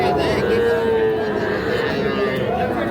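Cattle at the Ambari livestock market give a long, drawn-out moo close by, set against a dense background of crowd chatter and market noise.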